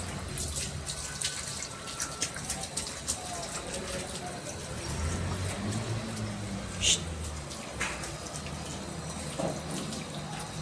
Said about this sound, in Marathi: आता कासवला आंघोळ घालते